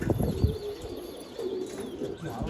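A pigeon coos close by in soft, repeated low notes, with a faint rustle in the background and no talk.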